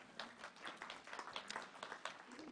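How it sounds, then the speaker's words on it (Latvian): Audience applause at a public administration digital transformation conference in Latvia, a quiet room-wide patter of clapping with dense overlapping hand claps, fairly faint and distant, steady for the whole stretch. "Aplausi Tickovskis kungam."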